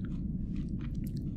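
Close chewing of a crisp red Delicious apple, a short run of moist crunching bites over a steady low rumble.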